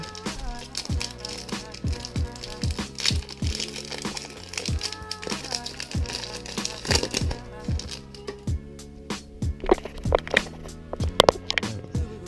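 A Pokémon card booster pack wrapper is torn and crinkled open, giving a dense stream of close, crisp crackling and rustling that runs nonstop, with no talk.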